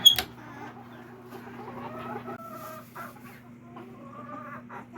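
Backyard Silkie chickens clucking softly in a winter yard near hay and straw bales, a run of close, low chattering clucks over a steady hum, with no talk.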